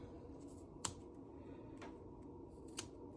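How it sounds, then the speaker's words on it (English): Scissors snip twice, carefully, trimming excess bulk from a quilt's binding corner; two sharp, quiet clicks stand out against a soft background hush. "I'm going to trim a little bit very carefully. Make sure I don't cut the binding fabric."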